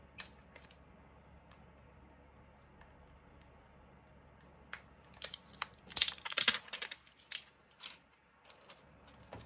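Plastic wrapping is peeled off an eyeshadow quad, making a few crinkly crackles early on and then a burst of close, sharp crumpling and tearing rustles, in an otherwise quiet room.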